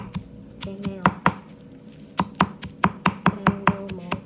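A knife chops ingredients for a Khmer dish of snails boiled in prahok broth, with crisp, close taps on a board in a quick, fairly steady rhythm, about a dozen strikes and a short pause partway through.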